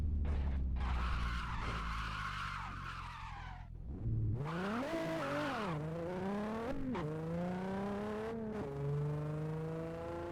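A car in Assetto Corsa slides with its tires skidding and squealing, in long wavering screeches over a revving engine, broken by brief gaps and shifting pitch as the back end steps out.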